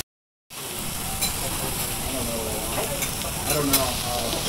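Okonomiyaki fries on a griddle in Hiroshima with a continuous, loud, close sizzle and scraping stirring sounds, starting suddenly after a moment of silence, with faint voices in the background.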